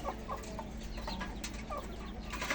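A desi hen sits brooding on her eggs on a rooftop coop and gives soft, faint, intermittent clucks against a steady low background hum.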